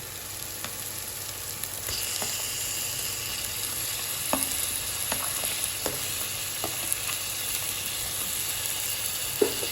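Tomatoes sautéing in a hot pan give a constant, close sizzling hiss, with a few sharp stirring taps and scrapes scattered through and no talking.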